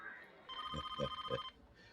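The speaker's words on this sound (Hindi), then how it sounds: "वो फोन बज रहा है भाई।" A telephone bell rings in a quick trilling burst lasting about a second, fairly close and loud, with brief thumps underneath.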